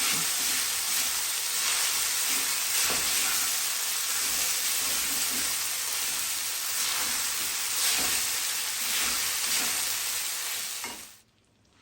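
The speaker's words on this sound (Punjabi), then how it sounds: "ਮੈਂ ਸਾਬੂਦਾਨਾ ਇਹਦੇ ਵਿੱਚ ਪਾ ਦਿੱਤਾ ਇਹਨੂੰ ਆਪਾਂ ਮੀਡੀਅਮ ਹੀਟ ਤੇ ਹੀ ਰੱਖਾਂਗੇ ਤੇ ਇਹਨੂੰ ਆਪਾਂ ਭੁੰਨ ਲਿਆ" Sabudana roasts in a pan over medium heat, giving a steady, close, bright sizzle and hiss with occasional stirring scrapes, running continuously for about eleven seconds before stopping abruptly.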